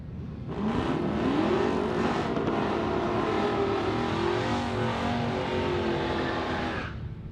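A drag racing car accelerates hard down the strip at Warwick Dragway, a loud, sustained engine roar with rising revs through the gears that fades away near the end.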